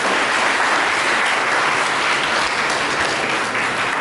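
Loud, dense applause from an audience honouring teachers at a college convention, steady and unbroken for about four seconds.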